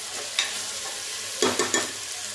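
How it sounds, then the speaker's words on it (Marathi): Onion, potato and tomato being stirred in a frying pan, with a steady low sizzle and a few sharp scraping strokes of the spoon standing out, close by, no talking. "टोमॅटो टाकूया, थोडंसं मिक्स करून घेऊया।"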